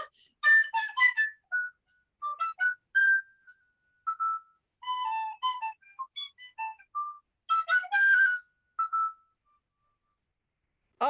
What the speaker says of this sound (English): You can't laugh and play the tin whistle.